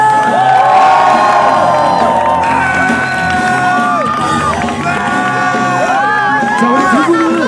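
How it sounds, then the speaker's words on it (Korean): Baseball crowd at a Nexen vs Kia game roaring with joy, a loud, sustained mass of cheering, whoops and high shouts that continues without pause. "기쁨의 함성 3초간 발사!"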